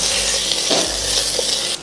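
Chopped vegetables frying in oil in a cooker for vegetable dum biryani, a close, even sizzle with a couple of soft stirring scrapes, then a sudden drop in level at the end.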